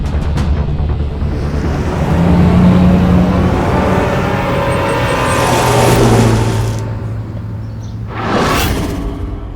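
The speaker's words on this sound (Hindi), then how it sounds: "दौड़ा गाड़ी गोविंद, दौड़ा।" A car accelerates hard and drives off fast, its engine roaring with rising revs and a rumbling whoosh that swells, eases and swells again before a final quick swish, loud and with no voices.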